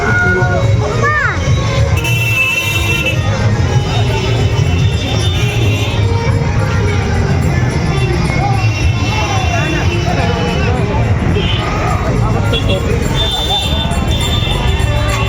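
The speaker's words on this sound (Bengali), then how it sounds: "রাস্তার মধ্যে কি ভিড় এত জ্যাম লেগে আছে" A dense crowd and traffic bustle on the road leading into the Balurghat Expo fair, with steady loud hubbub of many voices, occasional hoof clip-clop and horn-like tones filling the whole stretch without pause.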